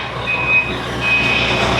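A dump truck reverses with its backup alarm sounding as steady high-pitched beeps, heard over a loud, rumbling diesel engine near a tree-removal and septic-install work site.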